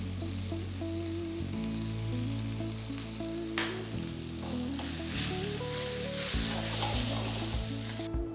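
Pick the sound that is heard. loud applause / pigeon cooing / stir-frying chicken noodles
stir-frying chicken noodles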